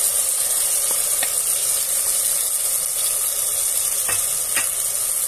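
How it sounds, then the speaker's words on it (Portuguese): Marinated beef sizzles loudly in a pan as sauce is added, giving a constant bright frying hiss with a few light stirring clicks, close-up and without talk. "Aqui nós já podemos colocar o nosso molho que nós preparamos"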